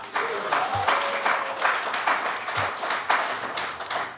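An audience at a city council meeting applauds, a steady wash of many hands clapping indoors, with a voice faintly heard beneath it.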